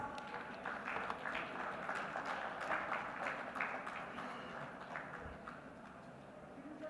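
Conference audience at India Maritime Week 2025 claps for a speaker: steady, dense crackle of many hands, moderately distant, swelling slightly before easing off near the end, with no voices on top.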